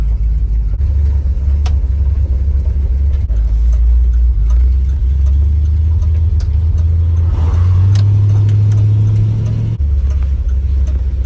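A 1970 Plymouth Sport Fury GT Six Barrel rumbles loudly and steadily up close as it drives across a street, its low engine note rising briefly near the end, with no talking.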